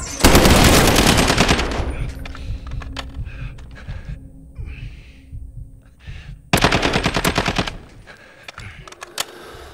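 Bursts of automatic gunfire in the video game Call of Duty Modern Warfare, a loud rapid volley at the start and another after a quieter stretch, with faint voices between.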